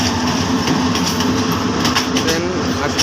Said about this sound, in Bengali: গাইবান্ধা রেল স্টেশনে ট্রেন চলে আসলো, দেখেন কত সুন্দরভাবে